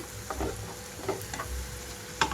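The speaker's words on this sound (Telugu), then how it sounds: "నేనైతే ఇక్కడ హై ఫ్లేమ్లోనే ఉంచి వేయించుకుంటున్నానండి" Onions with ginger-garlic paste fry over a high flame, producing a low, soft sizzle broken by occasional stirring scrapes and a sharper clink near the end. No one speaks.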